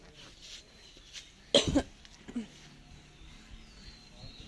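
A sick child with a cold gives one sharp, close cough followed by a smaller one, in an otherwise quiet indoor room.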